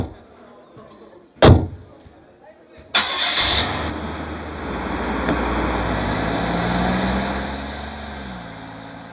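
A car door thunks shut, then the engine cranks and catches, settling into a steady mid-pitched idle that continues loudly to the end.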